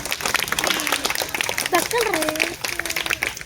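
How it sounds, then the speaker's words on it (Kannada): Audience applause fills a school talent festival (Pratibha Karanji) in Yaliyur, a dense, steady wash of clapping with a voice speaking over it throughout. "ಮತ್ತೊಮ್ಮೆ ಚಪ್ಪಾಳೆ ಬರಲಿ"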